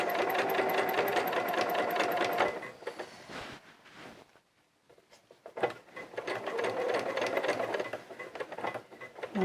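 Sewing machine stitching fabric for Eden Coveralls from a Brindille & Twig pattern: a steady, close mechanical whir that runs for over two seconds, pauses briefly, then resumes in a longer run of rapid stitching.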